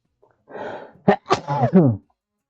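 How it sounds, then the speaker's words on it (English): A single close, loud sneeze bursts out after a breathy inhale, with a short voiced tail trailing off at the end. "Feel like sneezing."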